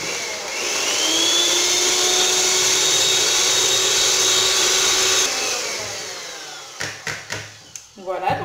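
Cake batter for a pineapple sponge being mixed with melted butter, likely with an electric mixer, giving a loud continuous whirring drone for about five seconds that fades, followed by a few short knocks and scrapes.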